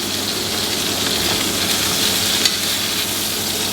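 Steak searing in a pan at home, giving a loud, continuous sizzle with a steady crackle and no talking.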